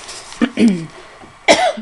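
Two short coughs, close up, separated by a brief pause, with faint breathy sounds in between.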